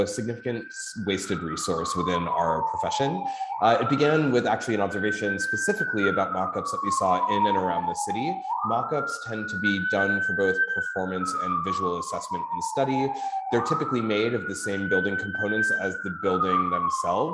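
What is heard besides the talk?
siren outside the window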